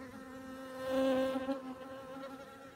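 Honey bees buzzing around a hive where a non-laying queen is kept, a close droning hum that swells and fades briefly, with no talking.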